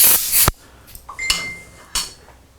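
Compressed air blasts in a loud, hissing burst at the start, cut off sharply, followed by a few quieter metallic clinks and short knocks of handled tools nearby.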